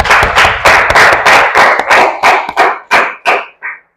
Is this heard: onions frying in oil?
no